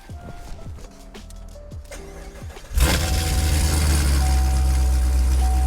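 Modified C7 Corvette Z06 with headers and straight pipes, quiet ticking at first, then the engine fires up loudly and settles into a deep, steady, lumpy idle close by.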